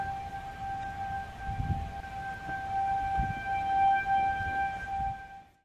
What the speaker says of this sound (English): Seemed like never ending sirens this night.